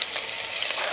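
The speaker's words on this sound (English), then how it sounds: "My mom is just going in with some onion." Onion going into about two tablespoons of vegetable oil heating on high in a pot, producing a steady, close, hissing sizzle throughout.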